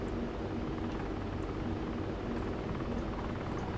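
Helicopter in the video game DayZ Overpoch, a steady low rotor drone and engine hum held at an even level with no speech over it.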